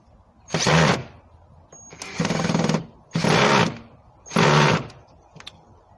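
A power driver sinks screws in four loud, sustained whirring bursts of about half a second to a second each, separated by short pauses, close by with no talking.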